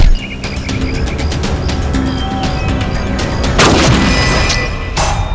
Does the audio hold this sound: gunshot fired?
yes